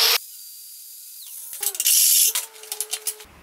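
A rotary tool cleaning out the ends of a steel tube for a roll cage, a high whining spin that starts, stops and revs in short bursts, then sputters through several brief pulses before cutting off.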